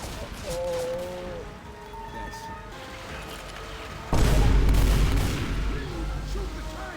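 Gunfire in Left 4 Dead 2 erupts suddenly and loudly midway, heavy overlapping shots aimed at the Tank on a rainy level, following quieter game sounds and tonal effects.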